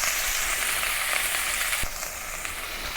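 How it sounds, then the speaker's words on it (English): Beef pieces brown in a single layer in a hot pan, a dense, steady close sizzle with a brief clatter partway through and no voices. "Try to divide the beef into small batch and make sure that it is single layers in the pan for the best results"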